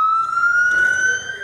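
A fire engine siren wails in a steady, high, sustained tone at a power station fire, fairly loud and close, with faint engine rumble and background noise underneath.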